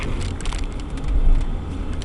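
Car engine running at high RPM on a long road, a steady loud drone with a slight swell near the middle and no talk over it.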